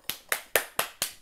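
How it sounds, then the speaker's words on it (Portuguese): Hands clap five times in an even rhythm, each clap sharp, close and loud, with brief quiet gaps between and no talking. "Muitas palmas."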